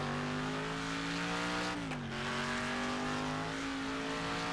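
A race car, a Camaro, in the Wreckfest racing game: a loud, steady high engine drone that dips briefly in pitch as the throttle is feathered midway, then climbs back and holds.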